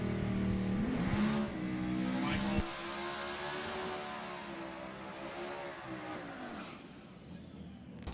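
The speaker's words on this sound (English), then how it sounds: "Cody Rogers and Fran Schatz both heading down the racetrack here." Drag racing cars, one a Corvette, accelerating down a racetrack, a loud sustained engine roar with rising harmonics that cuts off sharply partway through, then a steady fading rumble as the cars move away.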